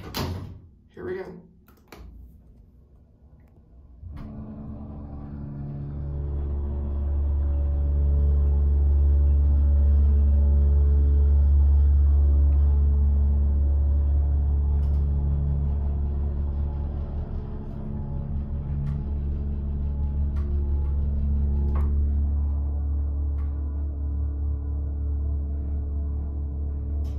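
A MontgomeryKONE hydraulic elevator at a hotel near SeaTac Airport roars loudly through the ride, a steady low motor drone with a harmonic whine building after a few clunks at the start and holding for over twenty seconds.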